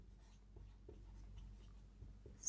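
Marker or chalk strokes on a classroom board during a Bengali-language statistics lesson, a series of short scratchy bursts repeating at uneven intervals, close and fairly quiet against a low room hum.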